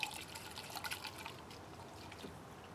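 Small amount of gasoline sloshed around inside a cup while premixing two-stroke oil for a dirt bike; a soft, close liquid swishing and trickling, fairly quiet, with no talking.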